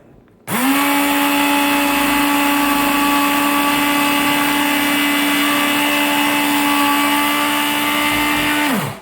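A WorkSharp sharpener spins up suddenly and grinds a high carbon steel blade, a loud, steady motor whine with abrasive buzz held close for about eight seconds before winding down.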